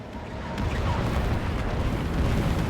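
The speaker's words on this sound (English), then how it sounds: "let's carpet bomb this district" Carpet bombing in the video game Civilization VII brings a dense, rumbling wall of explosions that swells after a softer start and holds steady and loud to the end.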